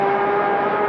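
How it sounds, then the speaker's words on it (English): Max Biaggi's Yamaha MotoGP bike roars at full power down the front straight, a loud, sustained, steady high-revving engine note held close for the whole moment. "just dropping onto this full left-hander now onto the front straight. Full power now."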